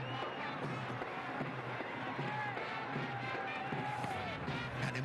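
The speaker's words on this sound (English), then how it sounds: "Animated crowd." At a Bangladesh vs Sri Lanka T20 cricket match, a large crowd roars and cheers in a continuous wash of noise while a commentator's voice talks over it.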